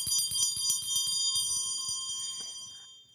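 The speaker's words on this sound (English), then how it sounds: "the best invention of 1660 was the dinner bell" A bright metallic bell rings rapidly in quick repeated strikes, then lets its tone shimmer and fade away over the last second.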